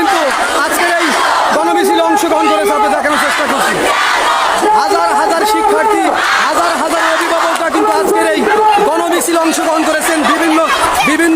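Thousands of students at a quota-reform protest rally chant slogans together on the street, a dense, loud, sustained crowd roar with rhythmic shouted phrases rising and falling throughout.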